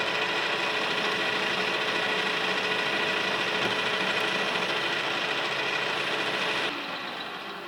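A Clausing lathe takes a final cut on acme threads for a cross-slide leadscrew, giving a steady, close mechanical whir and grinding hiss that holds evenly throughout and eases off slightly near the end.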